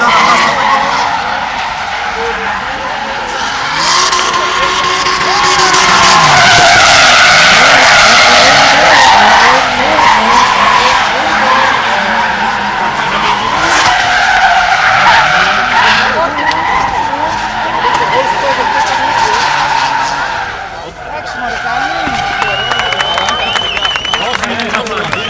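Drift cars skid at a 2008 drift event, tires squealing and engines roaring loud and continuous through battle runs, while an announcer talks over a PA and the crowd murmurs beneath.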